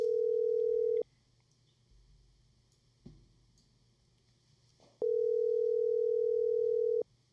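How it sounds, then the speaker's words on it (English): An outgoing telephone call rings back in two long, steady tones about two seconds each, separated by a quiet gap with a faint click, loud and clear with no voices. "Let's see if Ash is gonna answer"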